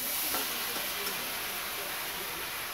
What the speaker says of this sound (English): we're going to cook those in butter with some garlic